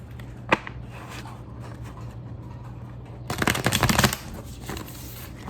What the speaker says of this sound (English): so I'm splitting it up to shuffle it a little better.